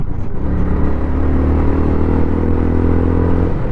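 A Jawa 42 FJ motorcycle with its Alpha 2 engine runs steadily nearby, a loud continuous low rumble with even mechanical clatter and no change in revs.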